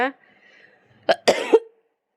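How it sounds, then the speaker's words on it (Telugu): A person coughs up close, a short vocal sound followed by two quick harsh coughs in a row, loud against an otherwise quiet room. "మాట్లాడుతుంటే ఇంకా దగ్గు కూడా వచ్చేస్తుంది నాకు"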